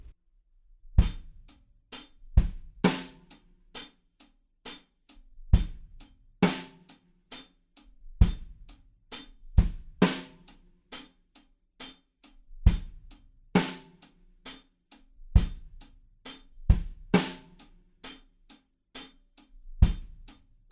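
A close, loud drum kit plays the chorus groove of a song, with punchy kick and snare hits and steady sixteenth-note hi-hats in a repeating pattern, no voices.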